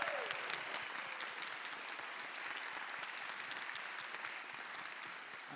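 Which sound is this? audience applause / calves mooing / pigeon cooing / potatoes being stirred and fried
audience applause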